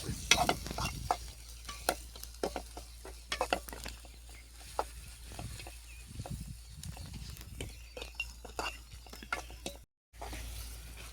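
Chopped onions frying in oil for a traditional Tamil fish curry (meen kulambu), with steady sizzling broken by frequent sharp stirring clatters close up, and a brief dropout near the end.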